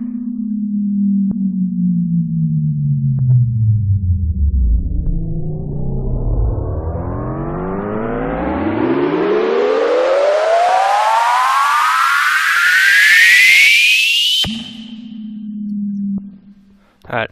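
A thick multi-voice synth patch from Native Instruments Massive, starting as a low tone that dips and then sweeps steeply upward into a bright, dense rising whine for about fourteen seconds, before cutting to a steady low hum.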